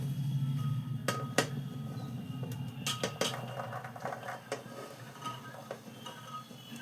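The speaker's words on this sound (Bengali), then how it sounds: "প্রেশার কুকারে সব আমি এক এক করে সব সবজিগুলো ঢেলে দিচ্ছি" Chopped vegetables tip into a pressure cooker for pav bhaji, giving a few scattered clattering knocks and thuds against the metal pot over a low steady hum.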